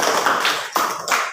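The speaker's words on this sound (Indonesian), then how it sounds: "tepuk tangan dulu" Students in a classroom clap their hands together in three quick, crisp bursts, close by and fairly loud.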